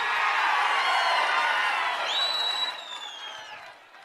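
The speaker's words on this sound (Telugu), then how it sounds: "గట్టిగా చప్పట్లు కూడా చెప్పండి" A large outdoor election-rally crowd in Malkapur claps and cheers in a broad, loud wash of applause with whistles over it, gradually fading toward the end.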